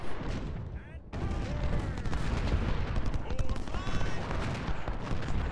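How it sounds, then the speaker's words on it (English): Gunfire in the Civil War strategy game Ultimate General: Civil War, a continuous dense crackle of musket volleys and bursts that stays loud throughout, with a brief dip near the start, under occasional game effects. "Now who's shooting?"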